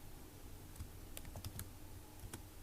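Keys tapped on a computer keyboard during a class lesson, a quiet, irregular patter of separate clicks with short pauses, faint over a low background hum.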